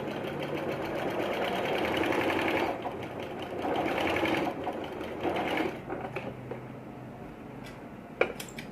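A sewing machine runs in steady bursts while stitching a button placket on a man's kurta, its rapid needle chatter pausing briefly between runs before stopping with a small click.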